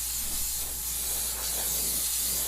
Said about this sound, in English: this nice wide atomized spray.